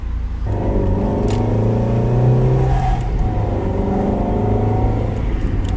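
Steady, loud engine drone from a Mazda Miata cruising on the highway at about 70 mph and 4,000 RPM, with harmonic tones holding a constant pitch and road rumble underneath throughout.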